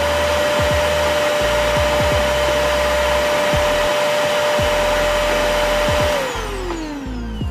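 Steady, loud whirring drone of a vacuum cleaner in the Toca Boca video game, running continuously and then falling in pitch as it powers down near the end, with no voices.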